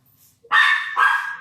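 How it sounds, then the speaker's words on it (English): Pet dogs barking indoors in the background, two loud sharp barks close together, with no talk over them. "pardon my dogs over there barking up a storm."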